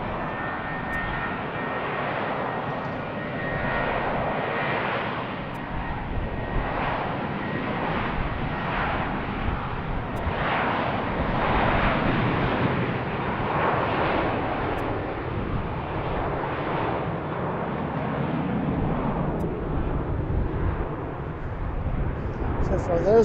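An airliner departing from BWI airport roars steadily from a distance, a sustained, slowly swelling engine rumble with voices talking over it.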